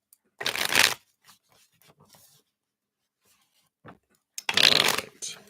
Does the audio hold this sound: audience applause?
no